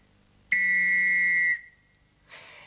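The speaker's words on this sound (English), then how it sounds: "That's a nice shiny whistle, isn't it? I wonder what it sounds like." A single bright, sustained whistle blast lasting about a second, close and clear, followed by quiet and a faint rustle.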